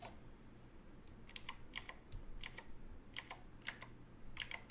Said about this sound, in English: you can definitely hear that sweet, sweet sound of the CocoMech keyboard in the background.